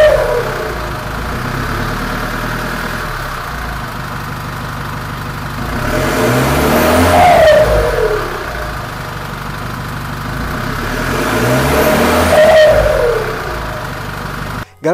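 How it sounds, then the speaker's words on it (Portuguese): A Chevrolet S10 pickup with its rear muffler removed, keeping the original catalytic converter, idles loudly and is revved twice in long swelling pulls that rise and fall back to idle, close by with no talk. "eu achei que o barulho ia ficar bem mais alto tirando o abafador traseiro"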